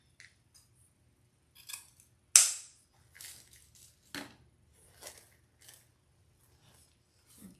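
Scissors trim yellow deco mesh ribbon tails on a spring grapevine wreath. Sparse crisp snips sound close, with one sharp cut standing out among quieter rustles and no talk.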